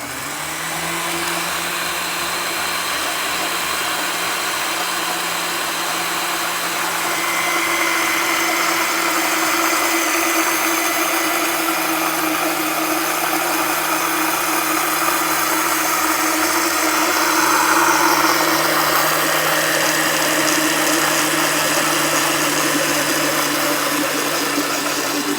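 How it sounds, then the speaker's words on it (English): A blender whirs steadily for a long stretch as an egg mixture thickens into sauce, its motor tone rising and shifting slightly as the mixture firms up. "You could hear that blender change tone as we were going."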